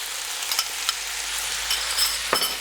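Brussels sprouts frying in a dry pan, a soft steady sizzle with a few light stirring clicks and scrapes, close and fairly quiet, no talk.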